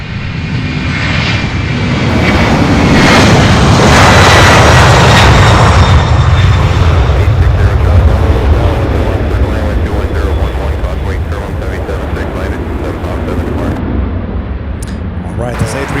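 An Airbus A300 jet departs Louisville airport at night, its engines a loud, broad roar that swells over the first few seconds and then holds steady, with faint talk underneath.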